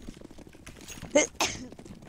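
A sudden two-part sneeze bursts out over low background murmur and noise.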